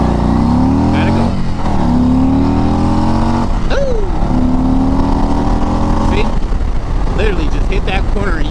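A 2023 Harley-Davidson CVO Road Glide motorcycle engine revs and accelerates loudly up close, rising in pitch through several gear pulls over constant wind noise, with a rider talking over it.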